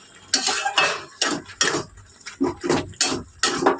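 Metal spoon scraping and clinking against a pan while stirring boiled potato and spiny gourd, about nine distinct close strokes in a steady rhythm, with no voices.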